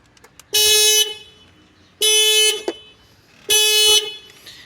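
A Proton Saga 1.3 VVT car alarm sounds after the battery terminal is reconnected: three loud, sustained horn-like blasts of about half a second to a second each, spaced evenly apart, with a few faint clicks before the first.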